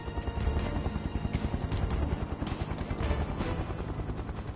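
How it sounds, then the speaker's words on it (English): Helicopter in the video game Final Fantasy VII Remake, a fast steady rotor chop pulsing throughout at moderate loudness, with no speech over it. "I hear a helicopter."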